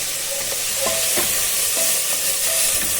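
Steady hot-oil sizzling of curry leaves frying for an egg curry fills the sound, with a few light scrapes of a spoon stirring in a pan.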